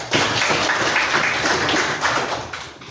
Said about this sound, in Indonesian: Kita tepuk tangan dulu untuk Gilsa.